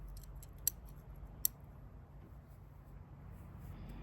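Two crisp snips of small bonsai scissors, close and quiet, a second or so apart, over a low steady background hum.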